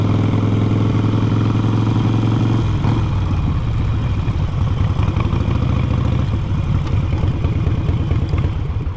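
A Harley-Davidson motorcycle engine idles up close, a loud, steady low rumble with rhythmic pulsing that shifts in tone partway through and then keeps chugging evenly to the end.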